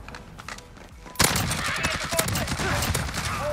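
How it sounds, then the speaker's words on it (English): Enemy gunfire in the Call of Duty Modern Warfare video game, a loud sustained burst of shots and rattling fire starting abruptly partway through, continuing densely to the end after a quieter opening. "these guys keep on shooting"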